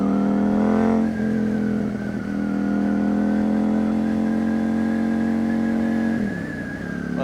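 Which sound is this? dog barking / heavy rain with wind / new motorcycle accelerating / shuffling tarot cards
new motorcycle accelerating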